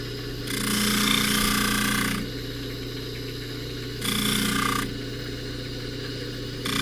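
A power tool buffs a soldered necklace, its steady motor whine rising into louder grinding bursts as the piece is pressed to the wheel, close and continuous with no talking.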